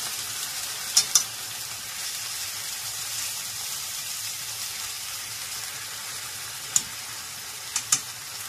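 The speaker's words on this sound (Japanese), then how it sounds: "これを炒めていきます。" Marinated pork for ginger pork frying in a little salad oil, a soft continuous sizzle close by with a few sharp clacks of utensils against the pan.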